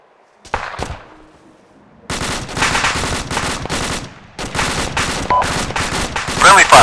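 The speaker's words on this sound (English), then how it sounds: "Friendly fire. Ceasefire, ceasefire. Lift fire, lift fire. Ceasefire." Rapid bursts of automatic gunfire in a video game, loud and close, arriving in two long rattling volleys with a brief gap between them, with voices calling out over the shooting.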